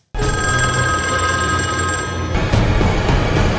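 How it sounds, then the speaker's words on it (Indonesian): An old-style telephone bell rings loudly and continuously in an execution room, a steady metallic trill that fills the scene before easing slightly near the end, with no talking over it. "sebuah telepon yang ada di ruangan eksekusi ini berdering"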